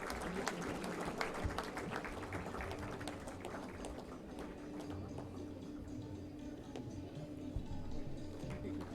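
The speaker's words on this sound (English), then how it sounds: "May we have a huge round of applause for them?" Crowd at an Engineer's Day college event applauding competition winners, a busy, moderately distant patter of clapping with a murmur of voices underneath throughout.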